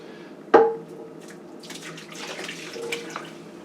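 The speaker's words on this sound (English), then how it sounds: "We're going to take this, drain this liquid off." Liquid drained off cooked beef from a pan for oven-baked beef stroganoff, a sharp clank at the start followed by a steady trickling, splashing pour into a sink, close and moderately loud.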